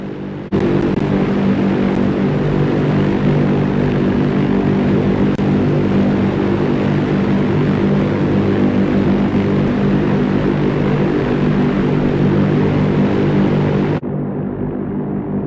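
Handley Page Hampden WW2 bomber in Microsoft Flight Simulator, twin piston engines droning with a loud, steady, throbbing hum, alone and unbroken, cutting off sharply near the end.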